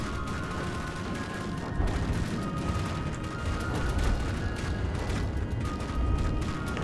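Explosions and cannon fire in the naval combat game From the Depths, a dense continuous roar of blasts and rumbling impacts, loud and sustained with no talk.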